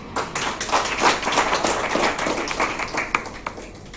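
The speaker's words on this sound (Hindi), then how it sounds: "एक बार ताली बजा के स्वागत करो" Audience clapping to welcome a meritorious student at a news event, a brief burst of scattered, uneven hand claps with a few sharp taps, near and fairly loud.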